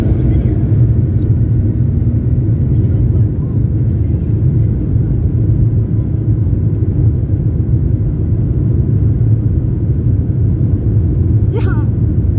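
A passenger airplane takes off from the runway at Innsbruck airport in Austria, heard from inside the cabin as a loud, steady engine roar and low rumble that holds constant throughout, with a faint chirp near the end.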